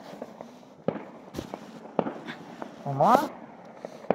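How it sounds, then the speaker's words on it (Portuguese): New Year's fireworks pop and crackle in scattered bursts at moderate distance, while people talk over them. "Olha aí, quantos fogos de artifício."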